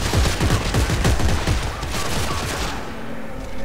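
Rapid gunfire bursts from a weapon in the sci-fi horror video game Dead Space 3, loud and dense for about two seconds, then thinning into softer game ambience.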